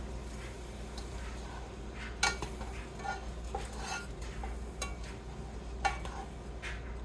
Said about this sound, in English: you're gonna cook it into your mushrooms and your onions